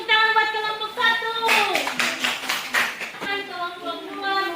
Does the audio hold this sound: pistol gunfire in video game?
no